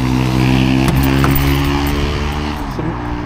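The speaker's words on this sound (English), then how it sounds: "Some motorbike just driving past there." A motorbike passes near a car dealership lot, its engine a steady droning hum that holds strong and then slowly fades as it moves away.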